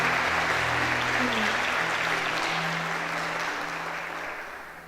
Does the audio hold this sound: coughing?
no